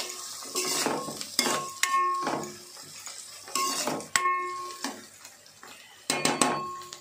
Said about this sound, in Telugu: ఆనియన్స్ మగ్ని అండి కొంచెం సార్ అటు ఇటు తిప్పేసుకుంటే సరిపోద్ది